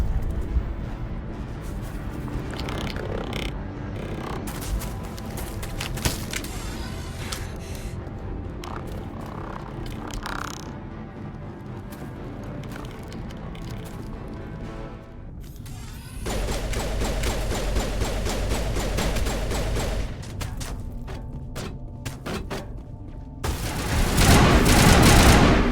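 Gunfire and explosions in the video game Mass Effect, dense bursts and booms over a continuous game soundtrack, growing louder toward the end.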